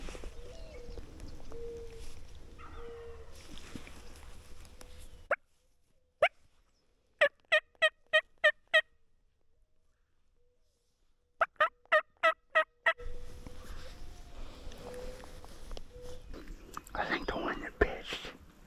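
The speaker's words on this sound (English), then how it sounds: "There's the gobbler." A Rio Grande wild turkey gobbles on a Colorado hunt in two bursts of sharp rattling gobbles, each a quick run of about five calls, while a hunter whispers softly before and after them.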